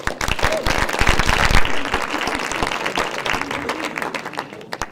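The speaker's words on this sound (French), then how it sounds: "sous vos applaudissements" An audience applauds as a mayor is welcomed to open a strategy committee meeting before a conference. Sharp individual claps give way to a fuller crowd ovation, then taper off over about five seconds.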